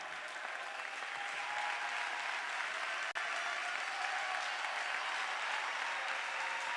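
A crowd applauds steadily for an award winner, a girl from a Kinshasa school, as she comes forward at a prize-giving ceremony; the clapping is continuous and moderately distant, with one sharp click midway.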